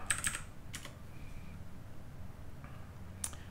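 Someone typing on a Windows keyboard connected to a Mac while coding, a few clear key clicks and clacks spaced out over a quiet background, with a final click near the end.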